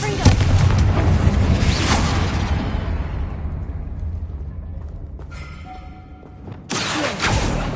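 A Confringo fire spell explodes inside a tomb with an altar and bones in Hogwarts Legacy, a loud booming blast that rumbles and fades over several seconds before a second burst hits near the end.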